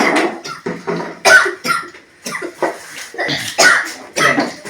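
Repeated close coughing fits during a game, a series of sharp hacking bursts with short gaps between them, loud and near.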